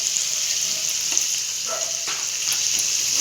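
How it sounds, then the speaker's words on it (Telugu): Garlic and ginger fry in a pan for methi dal, making a continuous bright sizzle up close with a few faint stirring scrapes and no voices. "ఇది వెల్లుల్లిపాయలు, అల్లం వెల్లుల్లి ఒక 1 మినిట్ వేగనిచ్చి"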